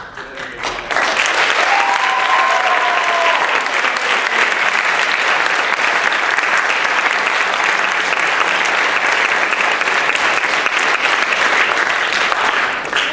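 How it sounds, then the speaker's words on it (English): Audience applause at a marching band all-American event honoring Army representatives, a loud, dense, steady wash of clapping that swells in after a second and holds evenly throughout, with a brief whistle near the start. "one more round of applause to our Army representatives here."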